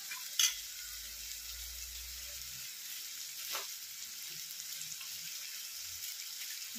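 Eggplant curry (brinjal palya) frying in a pan, a faint, steady sizzle running throughout with a soft clink near the start and a brief scrape midway, no voices.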